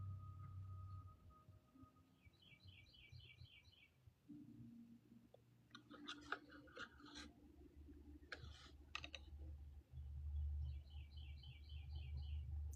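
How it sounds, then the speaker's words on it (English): Small birds, a mother and her babies outside a window, chirp in quick, repeated bursts against a quiet indoor background, with soft tapping and low hum in between. "I have a whole family of birds chirping now."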